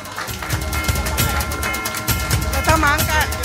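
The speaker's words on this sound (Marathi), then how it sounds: "अरे जोरदार टाळ्या होऊन जाय." A crowd applauds loudly and continuously at a school reunion marking the 50th anniversary of the 1975 tenth-standard batch. The dense clapping runs throughout, with voices mixed in.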